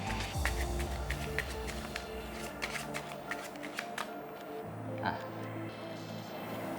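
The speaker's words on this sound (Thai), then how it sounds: "สับไพ่ กี่ครั้งก็ได้ แล้วเอาวางไว้บนโต๊ะ" A deck of playing cards is shuffled repeatedly at a table, with rapid riffling bursts and soft flicks close by and fairly quiet, with faint background sound between passes.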